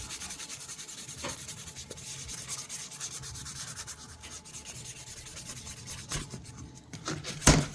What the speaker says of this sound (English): Not pressing very hard at all. Just a very light rub.